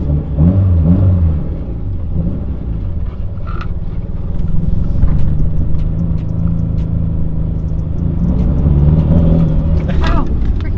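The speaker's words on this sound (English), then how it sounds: "So as you can hear and see, my Evo is having a gnarly issue, and every time it warms up it dies." Mitsubishi Evo with a fault that makes it die once warm, its engine running rough with a steady low rumble and uneven idle throughout, while people talk over it nearby.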